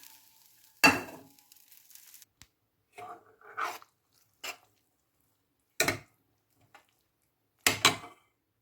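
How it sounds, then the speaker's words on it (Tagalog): Mushrooms stirred into a vegan dish in a frying pan: a few separate scraping, clattering stirs with brief sizzles, spaced apart by quiet gaps. "Nilagay ko na yung mushroom. Ihalo na natin dito sa niluluto natin."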